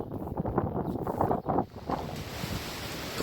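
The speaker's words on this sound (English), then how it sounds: "Raining and windy as usual." Gusty wind and rain on a farm buffet the microphone in rough, uneven rushes, with a steady hiss like rain or surf underneath and no talking.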